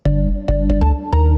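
Organ house bass line played solo, without its panning layer: a deep, loud synth bass in short repeated notes with sustained tones between them, alone with little high end.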